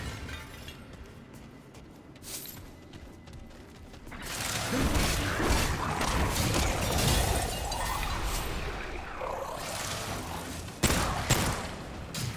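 Rifle fire in Remnant 2 during combat, a quieter mechanical rattle that swells into a sustained loud volley of shots and clatter, with one sharp louder crack near the end.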